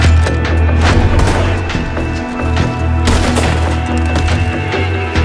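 Dense gunfire from Red Dead Redemption 2, with rapid overlapping shots and booming reports that stay loud and close throughout, nearly continuous for the whole stretch.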